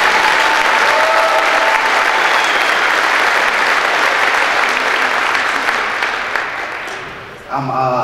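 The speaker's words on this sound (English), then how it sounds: "you guys need to give yourselves a round of applause" Canadian football fans at a CFL event applaud as a large crowd, a loud, sustained roar of clapping that fades toward the end before a voice begins speaking.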